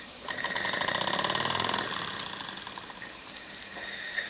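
Small steam engine idling at a steam rally at about 15 pounds of pressure, a quick steady mechanical chuffing and clicking rhythm with a hissing wash, close and fairly quiet, fading slightly after a couple of seconds.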